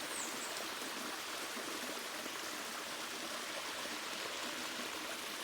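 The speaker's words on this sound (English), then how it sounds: "There's our little waterfall. Not a big one" A small waterfall on a farm river, giving a continuous soft rushing and splashing wash, fairly faint and steady throughout with no voices.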